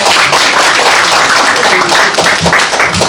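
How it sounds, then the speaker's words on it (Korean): Loud, dense applause from a press conference audience, continuous close clapping for about three seconds with no pauses. "허경영 대표님한테 모두 수고의 박수 한번 보내주시고"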